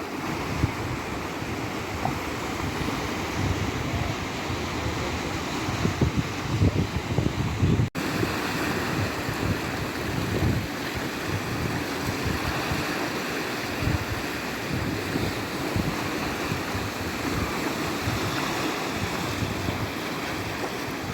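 Black Sea waves wash steadily against the shore at Odesa on a foggy day, a continuous broad rushing surf with wind buffeting the microphone, loud and unbroken, with no voices.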